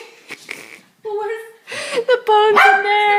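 A dog barks and yips in short bursts close by, mixed with whimpering tones, while people talk over it.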